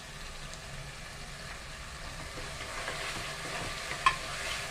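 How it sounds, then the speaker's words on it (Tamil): Asafoetida frying in hot oil as it is stirred in a pan, a quiet steady sizzle with soft scraping stir strokes and one brief clink near the end, no talk. "கொஞ்சம் பெருங்காயம் வச்சு போட்டுக்கலாம்."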